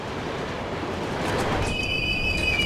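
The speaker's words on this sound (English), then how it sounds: "Y'all keep getting on this train, man." A train rolls along in the video game Kane & Lynch: Dead Men, a steady low rumble of wheels that is joined partway through by a sharp, sustained metallic wheel squeal.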